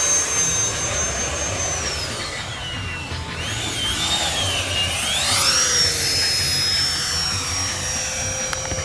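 A 64mm FMS Rafale RC electric ducted-fan jet flies overhead, its high turbine-like whine sweeping up and down in pitch as it passes and turns, loud and continuous with no talking.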